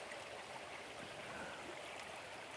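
Forest river stream flowing at a wild camping spot, a steady soft rushing hiss of water with no pauses, faint and even throughout, no voices.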